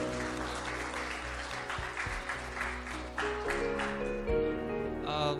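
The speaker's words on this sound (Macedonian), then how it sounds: "Може аплауз еден да видам." A crowd at a live concert in Kocani applauds steadily for several seconds, dense clapping that swells slightly toward the end, with a sustained musical tone underneath.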